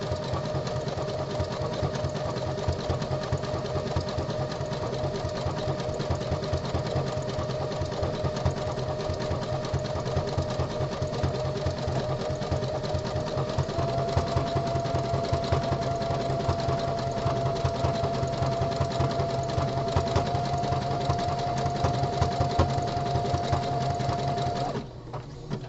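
A home sewing machine stitches the body panel of a pair of boxer briefs, running as one steady, continuous whir with a fast rhythmic clatter and a faint high tone, close and alone.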